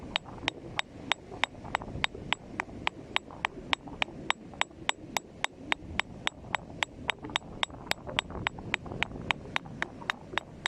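Rhythmic metal tapping as a hammer and chisel chip steadily at a corroded, wasted metal beach find, roughly three sharp strikes per second over a low rumbling background, close and even throughout.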